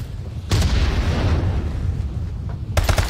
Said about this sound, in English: Nade's coming in on point.